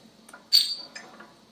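A crown cap pops off a bottle of AleBrowar New Wave Gose Blueberry beer in a single sharp snap with a brief hiss, heard up close in a quiet room.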